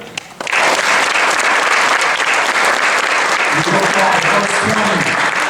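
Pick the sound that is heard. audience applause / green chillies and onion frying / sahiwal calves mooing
audience applause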